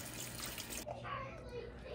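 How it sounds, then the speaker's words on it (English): Very hot water runs steadily over cooked beef, rinsing off the fat: a close, continuous splashing stream that shifts and softens partway through. "I'm taking really hot water and I'm kind of washing the beef to get even more fat off"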